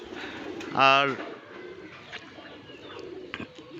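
A pet pigeon kept indoors in captivity gives a brief, close coo, followed by quiet rustling as someone speaks briefly.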